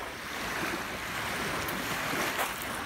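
Waves wash onto a beach in a steady, broad surf roar, with wind buffeting the microphone and no talking.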